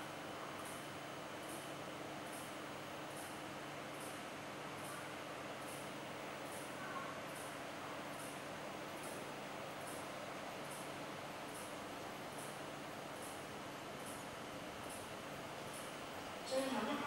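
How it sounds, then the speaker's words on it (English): A steady low rumble of a non-stop train, a G16 locomotive hauling maintenance stock, passing through a station, with faint rhythmic clicking repeating throughout and a brief louder burst at the end. "A non-stop train is passing through the station."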